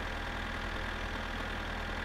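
Steady low idling rumble of a tractor engine in the driving game My Summer Car, a constant close drone with an even pulsing beat and no change in pitch.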